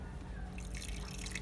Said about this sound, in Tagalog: Pwede nating dagdagan ng tubig.